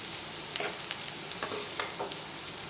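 Shredded cabbage and carrot sizzle as they are stir-fried in hot oil, a continuous close hiss broken by a few sharp crackles and stirring scrapes, with no talking.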